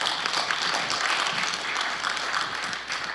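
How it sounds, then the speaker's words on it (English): Steady audience applause fills a church gathering, a dense, even wash of clapping from many hands that holds at a constant level throughout without pause. "How about a round of applause for what you think?"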